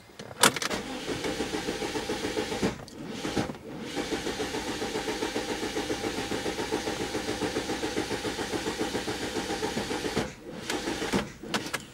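A car engine cranks in long rhythmic bursts, the starter churning over and over, pausing between attempts and never catching, heard close and alone.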